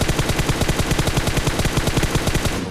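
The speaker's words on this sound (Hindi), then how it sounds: "वहाँ पर से मुझे डीपी का फायर आ रहा था" Rapid automatic DP gunfire in the BGMI battle royale on the Livik map, a loud, steady stream of closely spaced shots lasting the whole moment with no talk over it.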